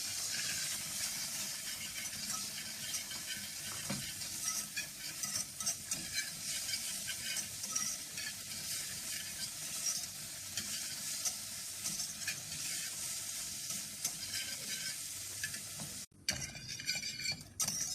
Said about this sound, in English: So we're just gonna let this fry a little bit for a few seconds.